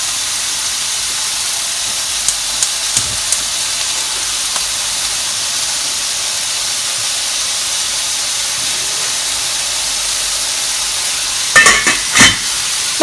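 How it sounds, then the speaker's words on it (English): A steady broad hiss of water heating in a pot for chicken noodle soup runs throughout, with a few faint clinks and taps near the end. "this is to get the water boiling quicker"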